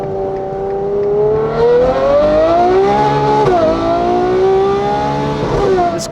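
A Novitec-tuned Ferrari 812 N-Largo supercar with 840 horsepower revs its engine hard and close, the exhaust note rising and falling in smooth sweeping pulls.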